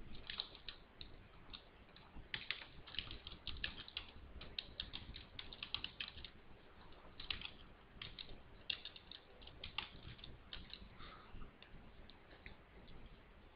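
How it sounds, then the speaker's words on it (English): Rapid keyboard typing on a computer while entering text in MS Publisher: a dense, uneven stream of light clicks and taps that runs the whole stretch, fairly quiet and close, with no talking. "And then we begin typing to insert our text."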